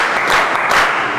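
A classroom of students claps together for a classmate during a physics lesson, a dense, steady burst of applause filling the room for about a second.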